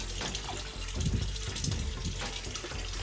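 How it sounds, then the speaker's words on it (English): Water gushes steadily into a pond as it is poured, a continuous rushing, splashing wash with faint background voices. "we start the pouring"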